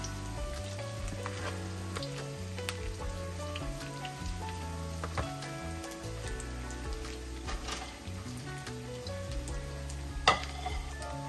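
Okra fritters frying in hot grease, a steady close crackling sizzle running throughout with a few sharper pops, all beneath a constant low tonal background.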